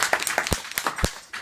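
Scattered hand claps ring out in a short, uneven round for Jed at a family gathering, a handful of sharp separate claps rather than a full crowd ovation, with no talking.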